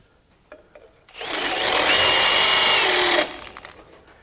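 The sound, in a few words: step reamer drilling through steel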